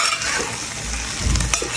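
Mutton sizzles and fries in a pan with a steady crackling hiss, close and fairly loud, with low stirring scrapes and no talking.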